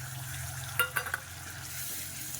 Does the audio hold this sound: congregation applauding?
no